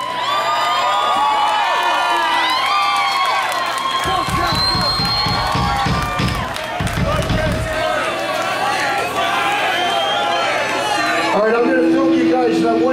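A concert crowd cheers and shouts in a busy venue, with loud whoops and roaring voices throughout, overlapped by nearby talking and music tones.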